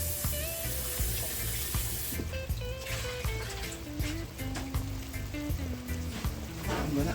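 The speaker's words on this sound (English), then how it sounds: "I'm washing my corn to add." Corn on the cob rinsed under running water in a kitchen while a pot boils, a steady hissing rush of water with splashing and clatter over several seconds, close and loud, no talking.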